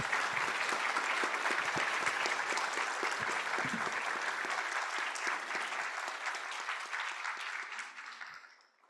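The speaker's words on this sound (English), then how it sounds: "please join me for a round of applause for Mr. Steiner" Audience applause in a hall during a university forum with the UNDP Administrator, full and steady at first, then gradually dying away to silence near the end.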